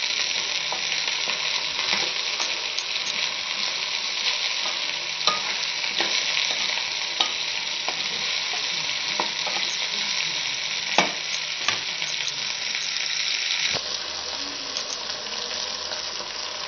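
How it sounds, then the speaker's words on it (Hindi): Okra (bhindi) frying in oil in a pan: a steady, dense sizzle throughout, with occasional scrapes and knocks as it is stirred, and the sizzle dropping slightly near the end. "ये देखें व्यूअर्स, हमारी भिंडी जो है फ्राई हो रही है।"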